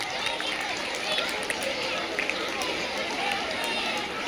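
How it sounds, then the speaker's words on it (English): Audience applause at a school prize distribution ceremony, a steady dense wash of clapping from a crowd that holds evenly throughout, with murmuring voices blended underneath. "A big round of applause."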